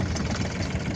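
A tractor engine runs steadily while the tractor sits stuck in mud, a continuous close rumble with a rough, knocking idle texture and no voices.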